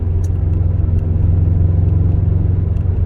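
A classic Subaru Impreza Turbo AWD pulls hard in third gear, its engine a steady, close, loud low rumble with a constant drone and no voices.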